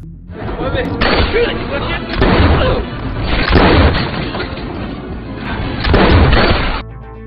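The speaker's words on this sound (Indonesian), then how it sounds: "kelompok kartel tersebut melakukan perlawanan hingga baku tembak pun tak terelakkan lagi" An action-film shootout between police and a cartel gang: heavy booming gunfire and crashes come in dense, rolling bursts, loud and near, mixed under a voice.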